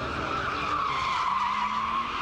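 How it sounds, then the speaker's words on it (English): Cars skidding during a Saturday night hot-rodding session in the car park of Lakeside Retail Park, Thurrock: a continuous, loud tyre squeal with a steady high whine that holds throughout, with engine noise underneath. "young drivers who gather for Saturday night hot-rodding sessions in a car park"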